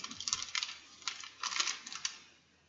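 Packing tape pulled off a roll while a custom PC is readied for shipping, heard as short, close bursts of crackly tearing with brief pauses between them.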